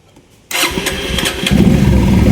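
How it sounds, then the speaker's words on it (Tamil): A Bajaj Pulsar 150 BS6 motorcycle engine cranks and fires up close by during purge valve testing, then settles into a loud, steady idle that grows slightly fuller after a second, with no talking. "வண்டி வந்து ஸ்டார்ட் ஆயிடுச்சு"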